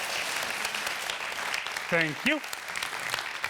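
An audience at the Amsterdam Science & Innovation Award 2021 ceremony gives steady moderate applause, with a brief spoken thank-you heard over the clapping midway.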